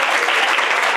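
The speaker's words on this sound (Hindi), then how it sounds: "आएंगे जोरदार तालियां राहुल।" A burst of loud, continuous clapping from an audience at a coaching institute, greeting a speaker. The hands keep up a dense, even patter for the whole moment, with no talking.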